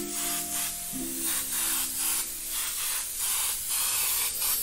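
An airbrush sprays paint onto a T-shirt with a steady, close hiss that pulses in short, rhythmic passes.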